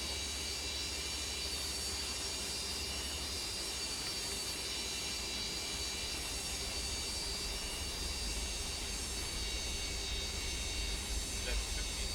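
Steady, dense jet engine roar with a constant high whine from a Boeing 727 taxiing in Microsoft Flight Simulator 2024, continuous and unchanging throughout.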